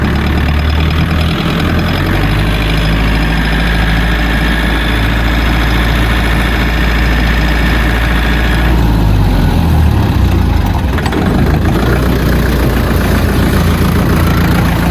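A Mitsubishi MT 25 Japanese compact tractor engine runs steadily with a loud, deep diesel throb and mechanical rattle close by, its tone shifting slightly partway through, with no voices.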